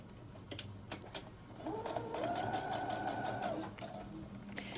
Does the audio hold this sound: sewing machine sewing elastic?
yes